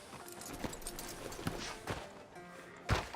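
Horse hooves clip-clopping in the video game Red Dead Redemption 2, a few scattered thuds at uneven intervals with the heaviest one near the end, set against a murmuring town ambience with no speech.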